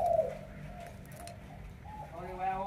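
A pet bird in a cage calls with a brief low cooing phrase, close by, while faint background noise runs underneath.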